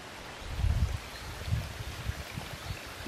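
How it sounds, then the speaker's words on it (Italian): A small stream trickles and flows through woodland during an October mushroom hunt in Italy, a steady low watery murmur with a few soft gurgling swells, close and alone with no talk. "La nascita di un ruscello."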